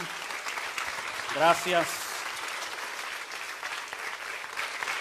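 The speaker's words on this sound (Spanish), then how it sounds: "¿Le puede dar un aplauso al Señor con todo su corazón?" Church congregation clapping for the Lord during a Sunday sermon, a continuous moderate wash of applause from the pews, with a voice speaking briefly over it partway through.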